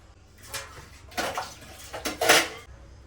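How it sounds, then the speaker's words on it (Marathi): Dishes, pots and pans washed by hand at a home sink, with clattering utensils and splashing water in several bursts that build to a loud clink near the end, close up with no speech. "आज आता ती नसल्यामुळं आपल्याला ही भांडी तर धुवायला लागणार आहेत"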